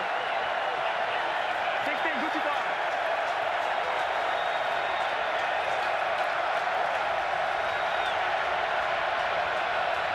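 Football stadium crowd at a DC Defenders versus St Louis BattleHawks XFL game, a sustained loud roar of cheering and applause with faint voices mixed in.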